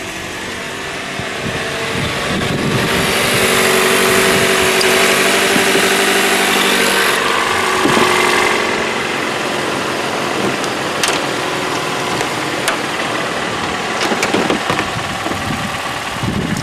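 A Toyota car engine idles steadily after a jump-start, a continuous mid-pitched hum with an air-conditioning-like hiss and a few faint clicks, close and alone.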